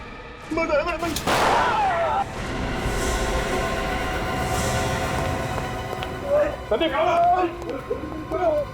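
A single gunshot bursts out in a tense scene from the Hindi police drama CID, ringing loud for about a second over dramatic music, with voices talking before and after.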